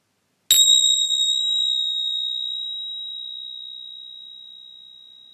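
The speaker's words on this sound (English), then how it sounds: "I'm going to ring the bell, and when the sound stops I want you to slowly open your eyes" A single clear meditation bell strike rings out and sustains with a pure, slowly fading tone for several seconds.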